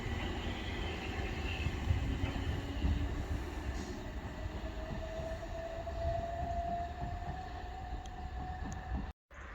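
A Class 313 electric train pulls into a Coastway line station platform, a steady close rumble with a slowly rising whine building over it, then an abrupt cut near the end; no one speaks.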